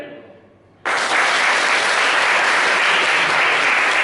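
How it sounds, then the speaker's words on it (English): Loud, sustained applause from an audience at a Zelig comedy show bursts in suddenly after a brief pause and continues as dense, even clapping to the end. "you just need to clap your hands"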